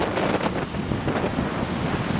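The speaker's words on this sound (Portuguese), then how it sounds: "Vento forte, sudeste," Strong southeast wind blows at Mar dos Macacos beach over a choppy sea, a loud, continuous roar buffeting the microphone with surf rumbling beneath.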